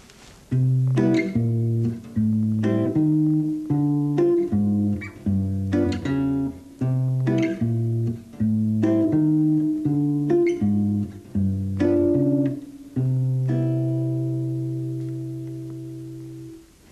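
Fingerstyle jazz guitar picks out tritone-substitution bass notes under plucked chord tones, phrase after phrase at a relaxed pace, closing on a long ringing chord that fades out; no talking.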